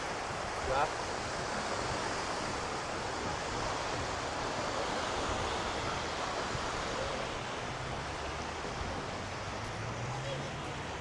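Choppy sea waves wash steadily at low tide along a seaweed-strewn shore, a constant broad surf roar mixed with wind buffeting the microphone.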